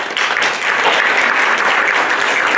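An audience at a media and marketing conference at a Bucharest hotel applauds as a speaker is welcomed, a dense, steady wash of clapping, close and loud from start to end.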